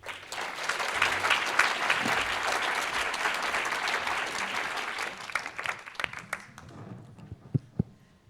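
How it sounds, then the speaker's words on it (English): Audience applause at a tuberculosis session after presentations, a dense sustained clapping that thins out toward the end into a few scattered claps. "Another round of applause for our presenters."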